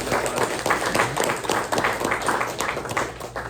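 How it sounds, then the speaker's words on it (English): A round of applause at a press luncheon, a room of guests clapping steadily and fairly close for a few seconds, with some voices mixed in. "let's give them a round of applause and give Philip a round of applause"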